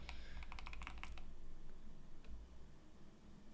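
A quick run of soft keyboard clicks, close and faint, then a single stray key tap against a low background hum.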